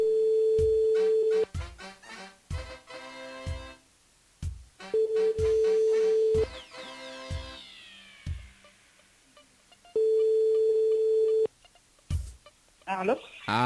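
Telephone dialing and ringing during a radio call, sustained ring tones broken by a series of short beeps and clicks, with loud voices and music surging around them.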